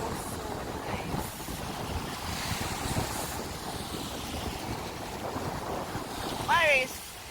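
Rough sea waves wash steadily on a Jamaican shore while strong wind buffets the microphone, a continuous broadband roar with a brief sharp chirping burst near the end.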